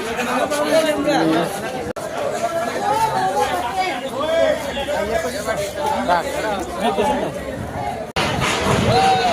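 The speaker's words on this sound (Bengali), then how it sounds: "ভিড় হচ্ছে।" Crowd chatter fills Vadodara railway station, a busy overlapping mix of many nearby voices and movement with occasional footsteps, steady and loud throughout with two brief cuts.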